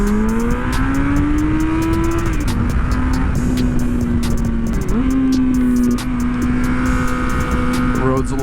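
A 2003 Kawasaki ZRX 1200R pulls hard downhill on a wet road, its engine note climbing steadily through two gear changes with a brief dip at each shift, loud and continuous over wind noise.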